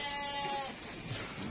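Goats on a small livestock farm bleat once in a drawn-out, wavering call that sits close and fairly loud, then trail off into quieter, rustling pen noise.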